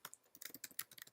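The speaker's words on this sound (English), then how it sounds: "I'm typing this to Michael" Rapid, uneven clatter of fingers typing on a computer keyboard, close and fairly quiet, with no voices.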